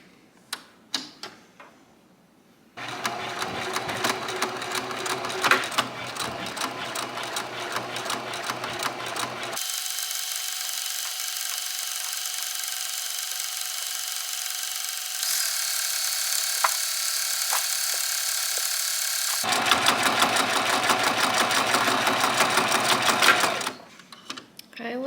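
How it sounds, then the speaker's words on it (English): A sewing machine stitches fabric bread bags shut, running in steady rapid bursts with brief pauses and a long continuous stretch, loud and close, with no talking. "you're just going to sew these shut all the way down."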